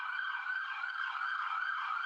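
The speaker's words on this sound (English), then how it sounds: "There's a lot of sirens." An emergency vehicle siren wails steadily at moderate volume for about two seconds, a continuous tonal sound with no voices.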